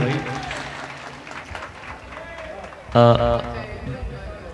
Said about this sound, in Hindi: तालियां बजा दीजिए भाई।